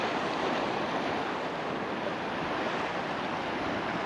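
Ocean waves wash at the shore in Japan as a dense, steady roar of surf with wind noise, close and constant throughout, no voices.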